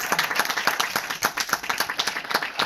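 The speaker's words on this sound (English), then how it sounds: "round of applause for them" A small audience bursts into brisk, fairly close applause for two performers, with distinct individual claps audible in a lively, uneven patter that continues unbroken.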